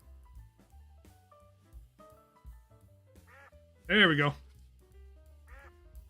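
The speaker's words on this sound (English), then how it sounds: "I got a Twitch notification" A Twitch notification alert plays as a short, loud duck quack, followed by a fainter second quack, heard between bits of a man's speech over quiet background music.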